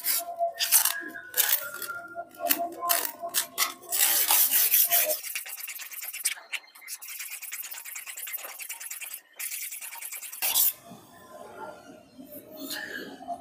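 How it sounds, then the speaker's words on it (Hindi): A hand plane blade is rubbed back and forth on a diamond sharpening stone, giving close, gritty rasping strokes in an irregular rhythm with brief pauses. "और इसी टाइप से आपको इसको रगड़ना है"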